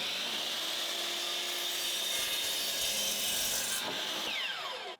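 A miter saw cuts through a wood piece in one loud, steady whine that holds for several seconds and then drops away as the blade finishes the cut.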